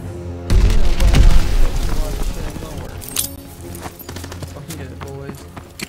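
Loud Call of Duty: WWII beta combat: heavy booming explosions and rapid gunfire crowd the opening seconds, then thinner scattered shots and blasts continue, with a voice faintly underneath.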